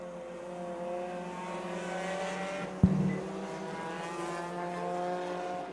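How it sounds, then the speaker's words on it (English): Four-cylinder division race cars in a seven-car heat at an oval track, engines droning steadily down the back straightaway, with a sharp bang partway through and the pack's roar holding at a moderate distance. "The only heat race now for the 4 cylinders down the back straightaway"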